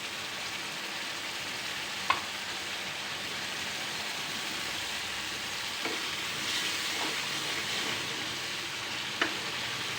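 Meat masala sautés in a pan, giving a steady, moderate frying sizzle with a few soft utensil clicks and scrapes scattered through.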